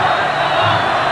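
Palmeiras supporters chant across a stadium during a 1993 Brazilian championship semifinal against São Paulo, a dense, steady roar of massed voices heard from a distance.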